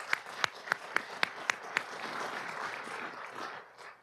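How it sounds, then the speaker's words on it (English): Applause at a city council meeting for a state championship team: several distinct loud claps in a slow rhythm open, then merge into a softer, continuous patter of many hands that fades toward the end. "let's give them a big round of applause"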